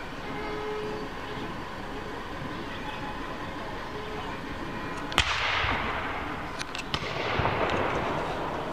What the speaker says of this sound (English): Got a gun salute.